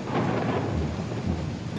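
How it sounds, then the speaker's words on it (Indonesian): Heavy rain pours down near a river in a dense, continuous hiss with a low rumble beneath, loud and unbroken. "hujan pun turun dengan deras"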